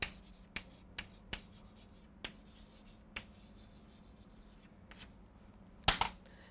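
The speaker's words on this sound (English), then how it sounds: "I will write his name here." Hand-writing a name with a pen or marker, heard as sparse quick strokes and taps spread over several seconds, then a louder scratchy burst near the end, with no talk.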